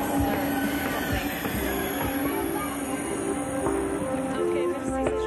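A French train running toward Quimper in Brittany, with a steady continuous rumble of wheels on rail and sustained tonal whines and hums throughout, close and even in level.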